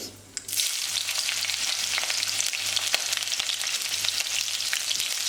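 Hot oil with popped mustard seeds sizzles and crackles steadily as six chopped green chillies fry for Kerala beef pickle, a bright continuous hiss with scattered pops, starting after a brief quieter moment.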